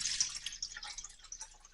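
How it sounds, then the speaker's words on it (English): Water poured into the tank of a Moccamaster Select coffee brewer, a soft, bright splashing trickle that runs steadily for under two seconds at low level with no talk. "We now put our recommended amount of water in to the tank"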